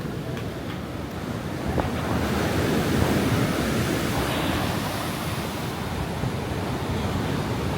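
Ocean surf rolls in steadily at Kuta Beach, Bali, a broad continuous wash of breaking waves with wind noise buffeting the microphone, swelling slightly midway.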